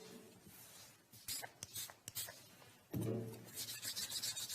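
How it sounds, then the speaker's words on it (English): Hands rubbing together with hand sanitizer, soft irregular swishing and rasping strokes close by, growing denser and louder toward the end, with faint whispery voice traces. "Now let's sanitize our hands."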